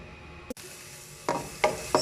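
Garlic and onion going into a hot pan for pinakbet, with a brief clack followed by short bursts of sizzling and scraping stirring, close and fairly quiet between bursts.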